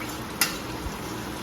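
Cooked beef being stirred into beef biryani in a pan, a soft ongoing sizzle with a single sharp utensil clink and a low thump, quiet and close.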